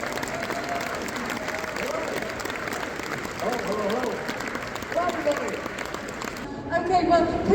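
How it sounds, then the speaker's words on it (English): Crowd applause in a large exhibition hall at the NEC Caravan, Camping & Motorhome Show 2024, welcoming actor Will Mellor to the stage; steady dense clapping throughout, swelling slightly toward the end with some voices mixed in. "Can we get a massive round of applause to welcome Will to the stage?"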